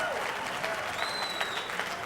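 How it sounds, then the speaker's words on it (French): A boxing crowd applauds the two fighters, Maurice Brantley and Stéphane Desormiers, after their bout, a dense patter of clapping that fills the arena while an announcer's voice carries over it. "une bonne main d'applaudissements pour ces deux bagarreurs"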